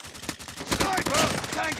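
Gunfire in a mobile shooter game played on an OUKITEL WP19 phone, a dense clatter of shots and effects filling the short stretch, growing louder midway.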